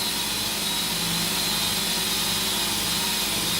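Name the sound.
Grizzly 2x42 belt grinder motor running at full speed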